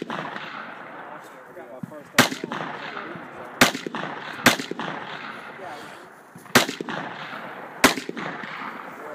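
AR rifle shots ring out at a 3-gun match stage, five sharp cracks spaced irregularly a second or more apart over a steady background of outdoor crowd murmur and voices.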